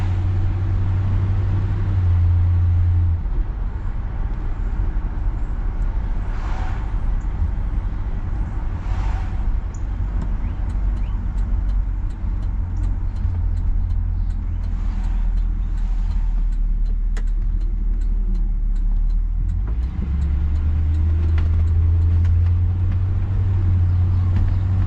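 A 1959 Chevy Bel Air cruises down the road, its engine a steady low rumble under continuous road and tire noise, with a brief lull in the deeper drone midway before it swells again.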